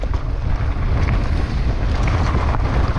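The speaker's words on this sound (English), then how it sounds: "Breezy up here." Strong wind buffets the microphone at a hilltop bike park on a dry, dusty day, a continuous low roaring rush that swells and dips slightly, loud and close, with no talking.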